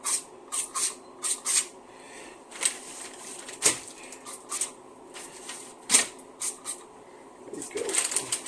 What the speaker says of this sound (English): You know what, I'm gonna spray it with a little bit of this deal.